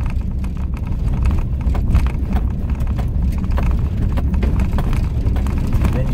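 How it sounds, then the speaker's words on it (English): A car rolling up roughly 100 to 150 yards of gravel dirt road, tires crunching and popping over loose stones in a steady close rumble with a low engine drone underneath. "So this is the drive up. Got about 100, 150 yards of gravel dirt road."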